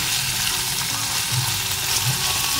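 Sliced potatoes frying in a hot pan, a dense continuous sizzle with light crackling and a few soft stirring scrapes, close and steady with no talking.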